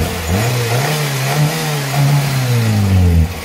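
The engine of a 1992 Tofaş Şahin revs loudly up close, its pitch rising and holding in a few sustained pulls before it drops off sharply at the end, with no talk over it.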